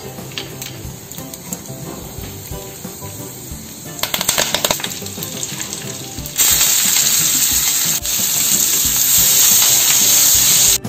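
Rice flour khichdi fries in ghee in a pan with mustard seeds, cumin, asafoetida, curry leaves and chopped chilli, giving a steady, close sizzle with scraping stir sounds that grows louder and more intense partway through.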